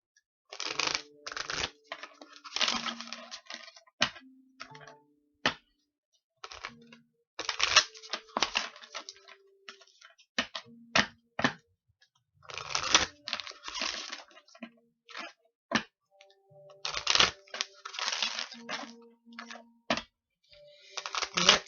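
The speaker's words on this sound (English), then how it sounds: "We're going to go ahead and shuffle these beautiful romance angels and get that message" Romance angel oracle cards being shuffled by hand in bursts of crisp riffling and tapping, loud and close, with short pauses between rounds and no talking.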